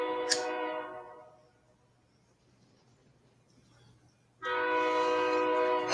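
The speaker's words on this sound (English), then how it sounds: "Here comes the train again." A passing train sounds its horn in a loud chorded blast that fades away, followed by a quiet rumbling stretch, then a second loud sustained horn blast close by.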